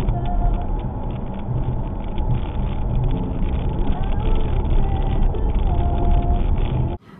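A car pulling away, heard from inside the cabin through an Apeman C450 dash camera: a steady engine and road rumble that holds throughout, then cuts off abruptly near the end.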